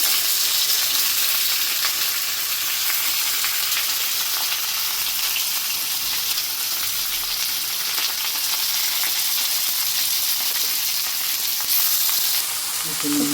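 Onions sizzle steadily in hot oil with whole cardamom, cinnamon and bay leaf, browning in a home kitchen; a dense, continuous frying hiss holds close and loud throughout with no talk.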